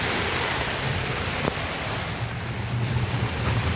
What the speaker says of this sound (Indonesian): Anginnya kencang banget ya Allah